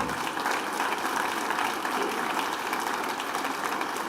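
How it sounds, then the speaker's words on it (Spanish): A church congregation applauds during a Spanish-language worship service, a steady, dense roar of many hands clapping together in a reverberant hall, continuous and fairly loud with no distinct voices. "Dele un aplauso al Señor"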